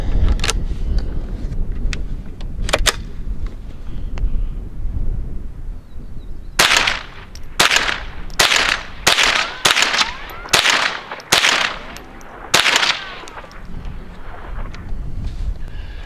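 Henry AR-7 survival rifle firing Federal Auto Match ammunition outdoors: a string of sharp, loud rimfire shots in an uneven rhythm, some spaced out early, then a quicker volley of about nine cracks.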